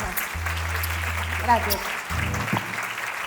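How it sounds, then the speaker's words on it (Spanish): A short burst of audience applause at a children's singing event in a school setting, moderately loud clapping mixed with a low hum and a spoken word of thanks. "pues despedimos con este fuerte aplauso"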